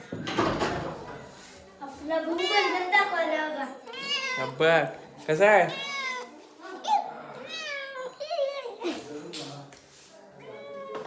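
A cat meows repeatedly at close range, interleaved with people talking nearby and some bumping and rustling.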